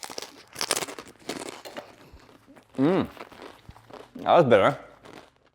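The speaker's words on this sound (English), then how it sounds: "You have to dip or dunk these crusty breads all over, and then try to crunch it" Crusty bread dipped in dauphinoise soup crunches and crackles in several close bites, with brief dry rustles in between and a voice speaking briefly over it.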